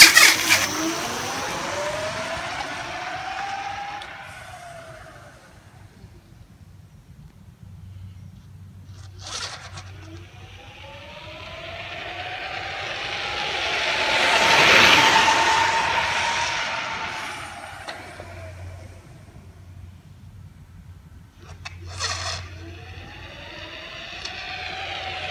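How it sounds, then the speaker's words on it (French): A Speedtrott RS 1600 electric scooter makes a standing start on both motors, its whining tone sweeping upward as it pulls away and swelling loudest midway before fading, with repeated rising whirs heard throughout. "je fais un départ arrêté avec les deux moteurs."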